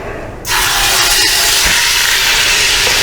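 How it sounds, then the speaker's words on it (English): Ribs dropped into a hot pan of avocado oil set off a sudden loud, sustained sizzle after a brief quieter moment, a dense steady hiss close up with no talking. "I'm going to go ahead and put the ribs in there, give them a light sear in the pan before I put the top on."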